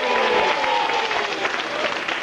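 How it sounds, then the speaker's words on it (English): A studio audience on a 1998 live television show claps steadily in a dense, even round of applause that lasts throughout, with faint crowd murmur underneath. "Round of applause for Jesse."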